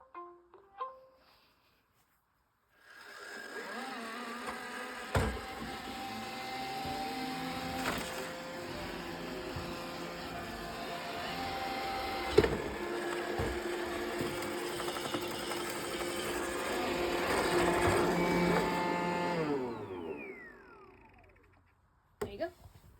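A Roomba robot vacuum starts a cleaning cycle with a full bin, a steady whirring motor hum with faint clicks and bumps, rising slightly before winding down to silence.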